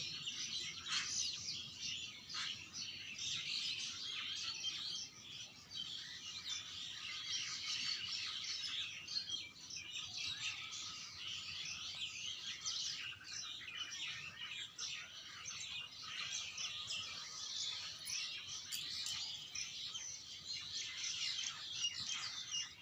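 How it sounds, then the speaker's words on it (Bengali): Many birds in a bamboo grove chirp and twitter continuously at a moderate distance, a busy overlapping chorus with no voices. "এই বাঁশঝাড়ির পাখিগুলো এত কিচিরমিচির করে"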